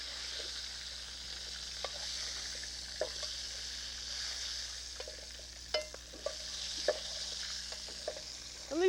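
Browned goose pieces go into a pot with onions and lardons, giving a soft, steady sizzle with occasional sharp pops and spatters, fairly quiet and without talk.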